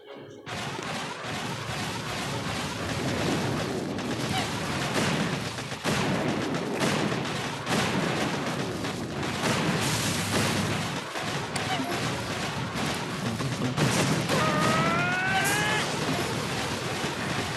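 Troops with tanks and flamethrower scorchers assault an enemy base in the Boom Beach mobile strategy game, with a steady, dense barrage of gunfire and booming cannon blasts throughout.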